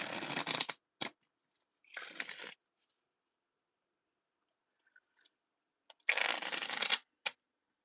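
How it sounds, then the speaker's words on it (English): A deck of spiritual reading cards being shuffled by hand, several crisp riffling bursts and short flicks separated by quiet pauses, close and clear with no talking. "Just want to wake them up, shuffle them up a little bit."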